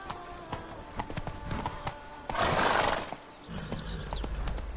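Roach, a horse in a video game, trotting with quick rhythmic hoof clops, then a loud neigh in the middle, followed by steady galloping hooves.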